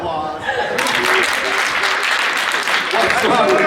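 Applause at a post-prom event breaks out after a short stretch of voices, with a crowd clapping continuously while chatter and shouts carry over it.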